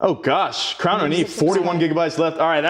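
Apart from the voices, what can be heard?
No distinct noise like a dog, phone or traffic.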